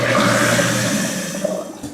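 An InSinkErator Badger 5 garbage disposal running as a sink basin drains, giving a steady loud roaring rush of water and motor hum.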